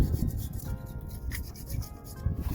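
Steady scraping and rubbing as an old gasket is worked off the edge of a differential cover on an LBZ truck, a close, continuous rasp with no talking.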